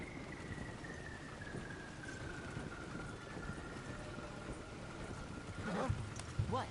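Rhythmic hoofbeats of a horse drawing a wagon down a road in Red Dead Redemption 2, an even trotting clatter over a rain-like hiss, with a thin whistling tone and heavier thuds near the end.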